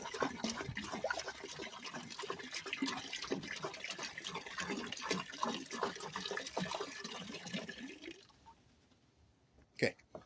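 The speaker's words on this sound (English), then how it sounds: "I have 1 more muriatic acid here. We're going to put that in," Muriatic acid glugs and splashes as it is poured from a half-gallon jug into a container, a busy liquid pour for about eight seconds that then stops, followed by a sharp knock.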